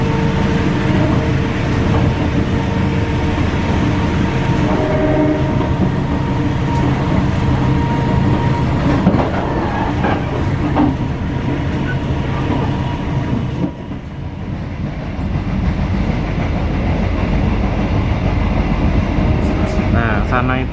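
Interior rumble of a passenger train pulled by a locomotive in vintage livery, rolling through Jakarta near Kemayoran, a loud continuous roar with rattling and faint clicks from the track, people talking in the background.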